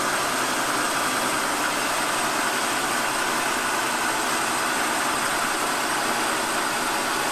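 Turret capstan lathe running at speed, a dense, continuous mechanical whir and hum that stays loud and steady with no pauses, heard close up and alone.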